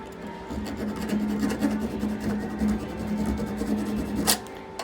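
A metal file rasps across a screw to clean off small burrs, giving a steady close scraping texture of quick repeated strokes with a sharper scrape near the end.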